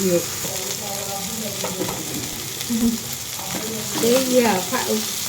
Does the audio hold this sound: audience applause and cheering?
no